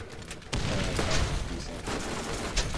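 Gunfire in the video game Borderlands during co-op play, loud rapid volleys of shots that start abruptly and keep rattling, with short gaps and renewed bursts.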